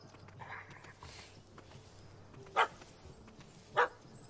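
Dog barking in The Witcher 3: Wild Hunt, two sharp separate barks a little over a second apart over a quiet ambient game background.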